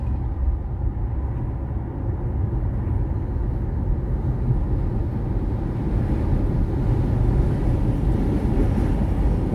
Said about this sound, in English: You can hear the rumble of the train going above us.